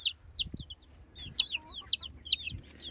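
A hen brought in to introduce chicks to the flock makes soft low clucks close by, while a steady run of high, bright chick peeps repeats in quick groups across the clip. No one speaks.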